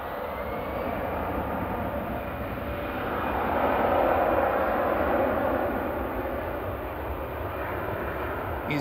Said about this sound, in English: EasyJet to Malaga departing in the background, OE LKC A319 flight 7002 for EasyJet.